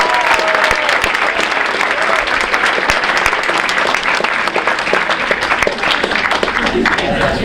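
A crowd at a winter varsity sports awards ceremony applauds academic award winners, with loud, continuous clapping and sharp individual claps standing out over a general cheer for the whole stretch.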